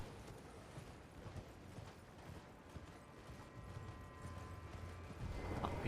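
Faint, steady clip-clop of horse hooves in the video game Elden Ring, a quiet rhythmic trot under a continuous bed of game ambience and music, with no talking.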